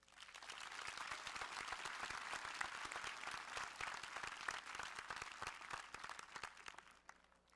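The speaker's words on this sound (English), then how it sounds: "So can we give them a round of applause?" An audience at a Laguna Beach High School graduation ceremony applauds, dense steady clapping sustained throughout, fairly faint and distant, fading at the end.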